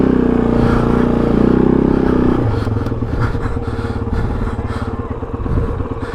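A Kove motorcycle fitted with AXP Racing protection runs close by, its engine holding a steady loud drone that drops in pitch and smooths into a lower rumble as it is put in gear, with light mechanical clatter throughout.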